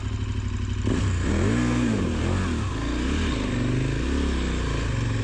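A motorcycle engine idles, then revs up with rising and falling throttle bursts while turning on the spot, loud and close, settling into a steady running drone.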